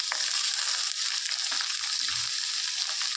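Cabbage frying in a pan, a steady broad sizzle with faint crackles throughout, close and continuous with no talking.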